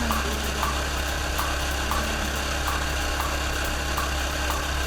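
A small mini bike engine runs at a steady idle nearby, a continuous buzzing drone with a faint regular ticking pulse and no voices.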